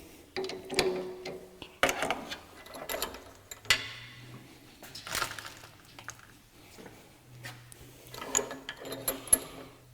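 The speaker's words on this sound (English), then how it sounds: "Now let's put a light chamfer on all of them." A machine puts a light chamfer on freshly drilled holes, giving close, intermittent bursts of mechanical whirring and clattering separated by short quiet gaps, with no speech.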